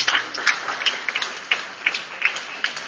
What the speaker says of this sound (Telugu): ఒకసారి వాళ్ళకు కూడా మనం గట్టిగా క్లాప్స్ కొట్టాలి.